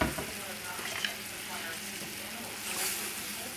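Mushrooms and veal fry in a pan, a steady close sizzle with soft crackles and a brief stir near the start, rising slightly toward the end.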